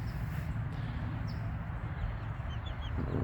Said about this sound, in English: I'll go in here and show you guys what I'm feeding these little chickies